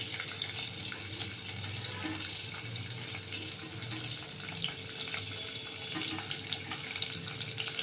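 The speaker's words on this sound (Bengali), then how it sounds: "একটু ভাজা ভাজা করে নেব" Green chilli and garlic frying in about two spoonfuls of oil in a home kitchen, giving a steady, even sizzle that runs close and unbroken throughout with no talking.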